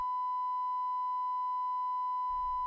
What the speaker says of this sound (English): Play the tone out of the speaker.